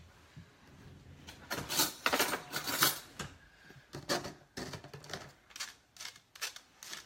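A spoon scrapes and presses a date mixture through a mesh strainer in a kitchen, making a run of soft, uneven scratchy strokes close to the listener with no talk.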